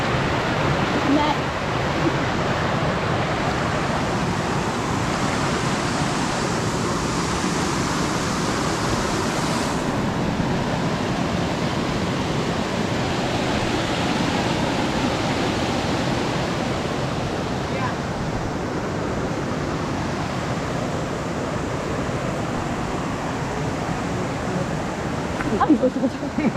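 Bluewater Falls in Baggao, Cagayan Valley, roars as a constant, loud wash of falling water filling the whole stretch, with people occasionally talking faintly over it.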